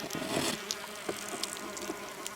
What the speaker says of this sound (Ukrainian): Тому самці все літають і літають навколо в очікуванні на нових подруг.